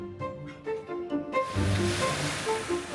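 Waves wash onto Sunset Beach on Koh Lipe, quiet at first and then rising into a louder, continuous surge of surf and wind noise.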